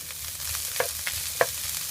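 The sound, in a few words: frying diced salted Spanish mackerel for fried rice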